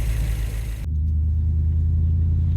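A 1965 Chevrolet Impala SS V8 with a Holley Sniper idles while warming up, a loud, steady low rumble close by that drops in pitch after a brief higher-revving start, with no talking.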